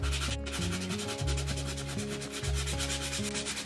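Repeated back-and-forth rasping strokes of sandpaper on a painted wooden surface, steady and close, with a low humming tone underneath.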